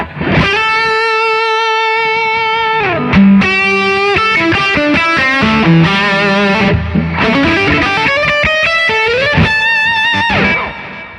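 Electric guitar played through Nobels and Suhr Riot overdrive pedals with VP4 reverb and delay, into a vintage Fender amp: loud sustained distorted notes and melodic runs with echoing tails, alone without talk.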